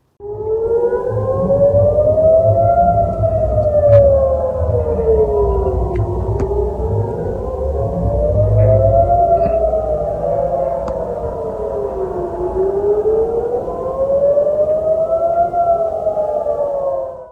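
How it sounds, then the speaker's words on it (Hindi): Air raid sirens wail loudly in Israel, several overlapping civil defense sirens rising and falling in slow, staggered sweeps, sustained throughout over a low rumbling background with no voices. "सायरन बजते हैं और लोग भागना शुरू कर देते हैं।"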